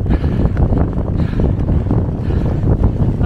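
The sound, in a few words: strong wind on the fells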